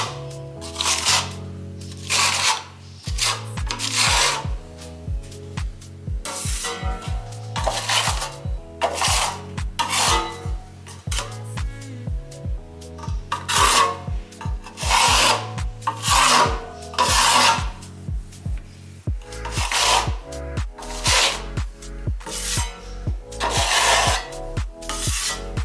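A Parkside spatula from Lidl scrapes repeatedly across a surface, giving loud rasping strokes in a steady back-and-forth rhythm with brief pauses between passes, close up and with no voices.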